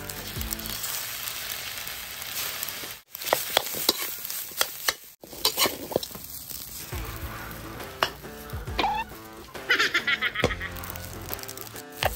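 Chili peppers fry in hot oil in a pan over a strong flame, a steady loud sizzle with stirring and scraping of utensils against the pan, broken by a couple of brief pauses and some clinks.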